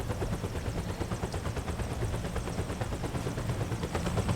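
Helicopter in the video game Metal Gear Solid 4, a steady dense rotor chop with low thumping pulses that holds loud and continuous throughout, with no talk over it.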